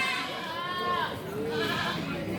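Goats bleat in two wavering, drawn-out cries at a local goat contest in Kulon Progo, close and loud over a crowded, noisy background.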